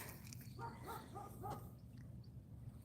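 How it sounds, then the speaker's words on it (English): A little female dog lets out a quick series of about five sharp barks at a distance over a steady low outdoor hum, the barks fading as she quiets. "She's got a big dog bark for such a little girl."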